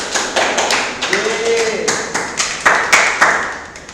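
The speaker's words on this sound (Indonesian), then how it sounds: "Tepuk tangan buat Krisna." A classroom of students clapping for a classmate named Krisna, a loose burst of individual claps with sharp, uneven strokes up close, over faint background chatter.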